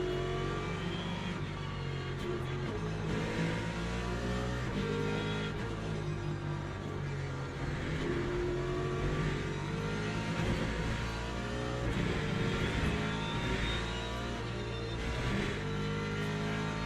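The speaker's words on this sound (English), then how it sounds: "One more hypercar coming." A hypercar's engine roaring past during a Le Mans-style endurance race in a racing video game, a steady loud high-pitched drone with shifting revs and no talking.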